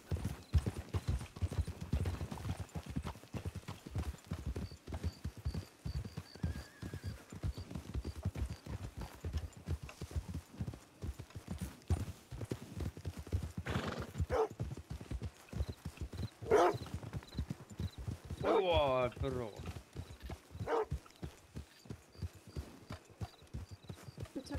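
Horses in Red Dead Redemption II: a steady, dense clip-clop of hooves runs throughout, with a couple of whinnies and a distinct neigh near the end, close and loud with no speech over them.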